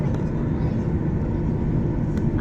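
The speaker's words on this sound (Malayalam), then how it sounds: "ഫ്ലൈറ്റ് ഇങ്ങനെ പൊക്കോണ്ടിരിക്കുന്നു." Steady, loud roar of an airplane climbing after takeoff from Kochi airport, a continuous broadband rumble heard from inside or nearby with no break.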